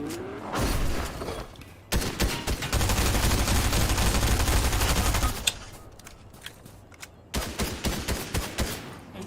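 Gunfire from weapons in Fortnite Chapter 3, a loud rapid burst of automatic shots followed by sustained dense firing, then a pause and further scattered shots near the end.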